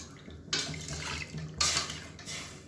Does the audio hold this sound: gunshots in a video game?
no